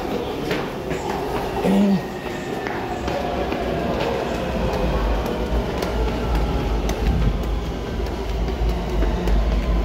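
A Taipei Metro C321 steel-wheel train runs on the Bannan line near Zhongxiao Xinsheng station, with a continuous rumbling roll, rail rattle and a brief tonal squeal near the start, steady throughout.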